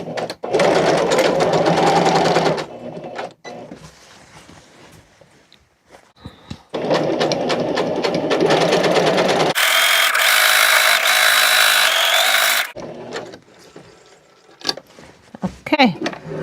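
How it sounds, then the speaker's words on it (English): A sewing machine runs a flat stitch through curtain fabric in steady, loud whirring bursts separated by pauses, with a harsher, louder mechanical stretch near the end and quieter handling noises between runs. "now I'm gonna go ahead and do a flat stitch."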